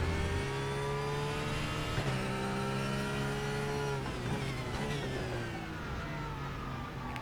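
A race car in the sim racing game RaceRoom braking for a chicane, its engine note stepping down through falling pitch sweeps as it decelerates, steady and close without talk.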